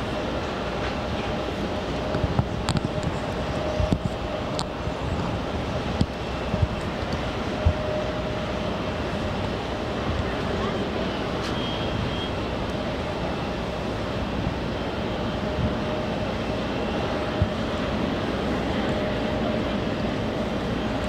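A Dynasty Boeing 777 airliner crosses the runway at JFK airport, a steady broad engine roar with a faint whine, sustained and fairly distant throughout.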